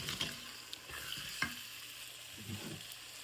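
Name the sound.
water poured into sizzling pan for gravy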